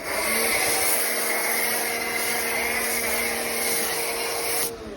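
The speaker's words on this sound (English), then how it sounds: "I feel like my pressure washer is definitely working harder though." A pressure washer runs with a foam cannon attached, a loud, steady hiss and motor whine held unbroken for several seconds before cutting off sharply near the end.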